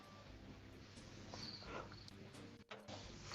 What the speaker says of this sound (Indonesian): Kok ada suara jangkrik sih, ini pasti Bang Momon nih.